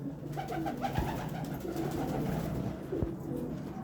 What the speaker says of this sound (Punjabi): ਇਹ ਨੀਲੇ ਹਰੇ ਤੇ ਸੇਬੇ ਵਾਲੇ ਕਬੂਤਰ